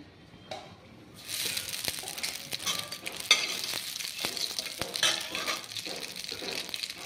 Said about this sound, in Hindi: हमारा ऑयल गर्म हो चुका है अब हम डालेंगे अजवाइन